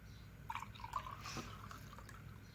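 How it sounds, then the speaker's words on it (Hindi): Lukewarm water is poured into a glass while preparing bread dough. It makes a faint, close trickle with a few small drips and splashes, heard alone without talk. "सबसे पहले एक गिलास में जो है वो नीम गर्म पानी डालेंगे"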